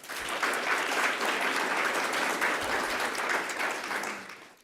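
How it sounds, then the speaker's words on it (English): At a corporate sustainability summit, a large audience claps in a steady, dense round of applause that holds evenly for several seconds before tapering off at the end, with no voices over it. "Can we applaud to that?"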